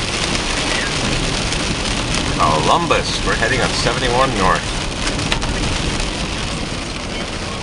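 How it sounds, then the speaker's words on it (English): Rain patters steadily throughout near a stadium by the water while someone talks over it, his voice fairly close. "here comes the rain"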